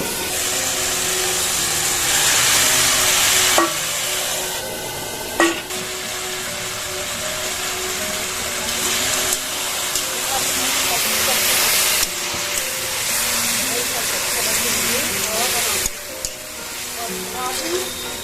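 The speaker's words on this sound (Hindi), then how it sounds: "तो भाजी के तड़का डाल दिया जाए" Loud hissing sizzle as a spice tempering hits hot oil for sour amaranth greens and chana dal, with bursts of crackling and a few clatters from the pan over a long stretch.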